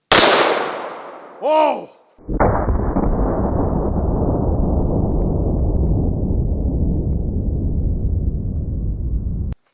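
A single thunderous blast from a 500 Smith & Wesson Magnum revolver with a 10.5-inch barrel firing 500-grain Underwood flat-point rounds, preceded by a sharp crack and a startled shout, then a long, loud roaring decay that rings on for several seconds.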